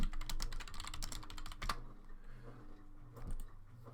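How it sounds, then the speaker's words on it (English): Rapid keyboard typing clacks in quick bursts, then slows to a few scattered keystrokes, fairly close and clear with no talking. "I hear him typing"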